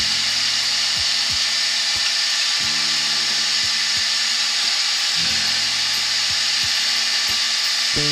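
Wood spins on a lathe under a spindle gouge, a steady hiss of cutting running over a low motor hum, with rhythmic thumps of the turning piece.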